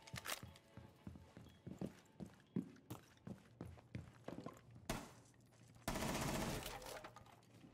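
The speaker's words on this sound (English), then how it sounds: "I hit you with the last little bullet in my damn gun." Gunfire in a one-on-one warmup match of a tactical shooter video game: a rapid run of sharp shots and clattering impacts, ending in a loud sustained burst.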